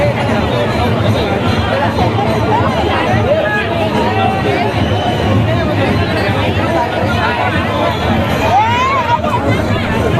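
A large crowd of devotees packs Ekvira temple, their chatter merging into a dense, steady hubbub that holds at close range for the whole stretch, with individual voices rising and falling inside it.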